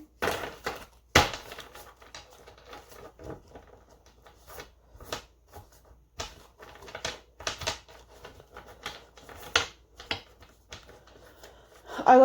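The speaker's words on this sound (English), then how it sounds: "I like to show my shuffles" A deck of tarot cards shuffled by hand, with sharp riffling bursts and softer rustling slides in an irregular rhythm, close and fairly quiet, heard alone.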